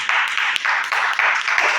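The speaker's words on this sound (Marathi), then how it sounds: "जोरदार टाळ्या झाले पाहिजे" Classroom of students clapping in a steady, energetic burst of applause, continuous with rhythmic surges, fairly close and loud throughout.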